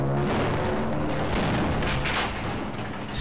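Loud, dense gunfire from the shooter game Half-Life fills the stretch, sustained bursts and blasts with no voices over it.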